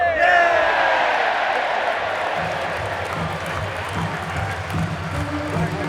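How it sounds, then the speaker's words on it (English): Cricket crowd at Taunton erupts in cheers and applause as Somerset seal a record Vitality Blast quarter-final win over Derbyshire: a loud, broad roar that swells at the start and holds through six seconds, with a commentator speaking over it. "the crowd are about to erupt"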